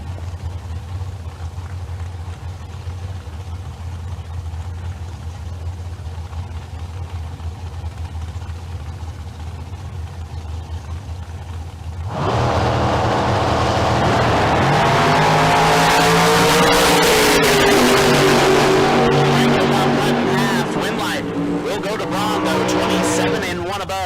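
Drag racing cars, including a Camaro, launch side by side at Tucson Dragway. A steady engine rumble builds into a loud roaring pass partway through, with an announcer calling the race over it.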